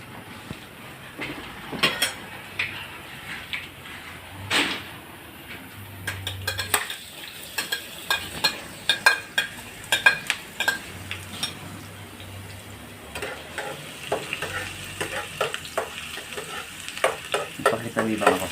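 Pork paksiw with vinegar and chili cooks Bicolano style in a pot, with frying sizzle under frequent scraping and stirring clatter of utensils against the pot. The scraping comes in irregular bursts.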